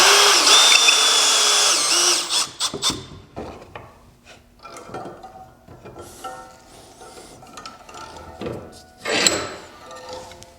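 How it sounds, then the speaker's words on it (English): A power drill drives screws into pocket holes to join a wooden joint without glue, a loud whirring burst at the start, then softer clatters and knocks of handling the wood. "So now what I'm gonna do is I'm going to screw it together with no glue"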